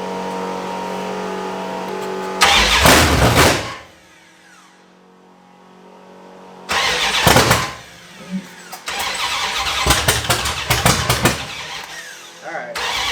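A big block engine swapped into a Prospector, with a suspect carburetor, cranks and catches in loud bursts that sputter and die, then restarts and runs roughly with uneven revs, up close, with a voice talking between attempts.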